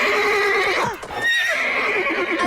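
A horse whinnies loudly and close by, its voice rising and falling in a long neigh that dips briefly and then carries on.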